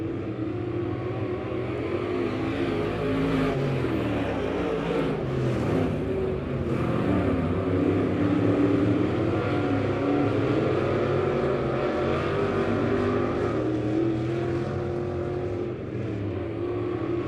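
Race cars roar around a speedway during a heat race, a continuous loud engine drone with rising and falling passes, no voices heard.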